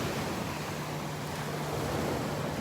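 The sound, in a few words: ocean waves breaking on beach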